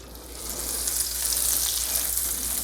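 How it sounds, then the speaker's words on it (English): Butter and a little oil sizzle steadily in a pan over medium-high heat for chicken livers, a close, even hiss without pauses or talking. "So we're going to use about half of the butter we have prepared. Put a little bit of oil in the pan."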